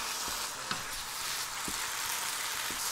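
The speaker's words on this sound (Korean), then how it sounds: "센 불로 넣고 빨리 볶아주세요." Seasoned seaweed stir-fried fast in a hot pan over high heat makes a faint, steady sizzle with a few soft scraping stirs, no talking.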